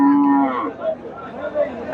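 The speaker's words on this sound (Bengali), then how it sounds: "এই যে সার গরুটা দেখেন মাসাল্লাহ কত বড় একটা সার গরু" A big Friesian bull at the Chandaikona cattle market lets out a loud, close moo that drops in pitch, followed by quieter grunting lows and a fresh rise at the end.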